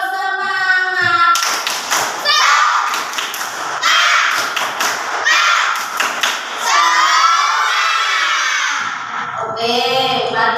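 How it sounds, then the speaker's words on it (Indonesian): A group of children doing a rhythmic "tepuk semangat" spirit clap chant in a classroom, with patterned bursts of claps and taps mixed with energetic shouted chanting voices. "Sekali lagi yang lebih semangat."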